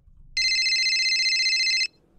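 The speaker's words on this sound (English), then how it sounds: "He heard your phone ring." A phone ringing in a quiet room, one loud, steady electronic trill lasting about a second and a half, then cutting off.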